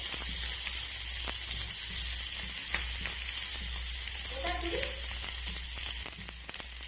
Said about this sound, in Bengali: এবার সব কিছু আমি তেলের মধ্যে ভেজে নেবো